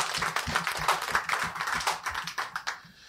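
Scattered clapping from a small group at a regional meeting in Cotonou, raised by acclamation to approve a report; irregular, fairly close hand claps that thin out after a few seconds.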